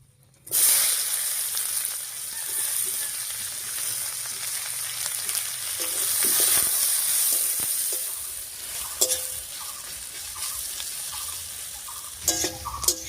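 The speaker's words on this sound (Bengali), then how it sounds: "পেঁয়াজটা বেশ লাল লাল করে ভেজে নিয়েছি" Chopped onions frying in hot oil over a tempering of whole spices including a torn bay leaf, for a jackfruit chicken curry. A steady, close, loud sizzle runs throughout with occasional spoon-scraping clicks from stirring, and no talking.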